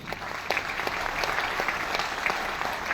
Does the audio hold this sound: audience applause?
yes